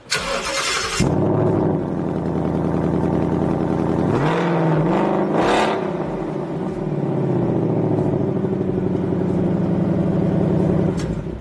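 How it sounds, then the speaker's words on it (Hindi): A 2018 Ford Mustang GT Convertible with a 5.0 V8 and quad exhaust fires up after a brief pause. It settles into a loud, deep idle, with a couple of sharp revs in the middle and no talking. "ये इसका क्वाड एग्जॉस्ट सेटअप दिया गया है, जो कि काफी लाउड है"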